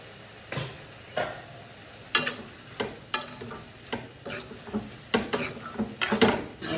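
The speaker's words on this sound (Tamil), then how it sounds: "பொடி போட்டு நல்லா வதக்குங்க" Avaraikkai (broad beans) being sautéed with chili powder in a pan, a quiet background sizzle broken by repeated scraping stirs and clinks at an irregular, steady pace, with no voices.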